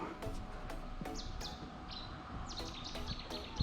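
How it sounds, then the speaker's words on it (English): Birds sing outdoors in Elciego, Spain, with repeated short chirps and sweeping whistled notes, fairly faint over a steady background of ambient outdoor noise. "Can you hear the birds?"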